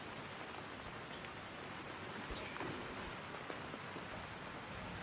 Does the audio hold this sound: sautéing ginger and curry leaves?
no